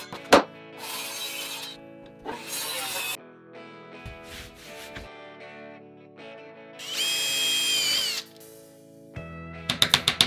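Power tool driving fasteners to fix 9.5 mm black pine plywood sheets onto a pickup truck's roof during a mobile home build, in several loud bursts separated by quieter handling and shuffling, ending with a quick rapid run of short hits.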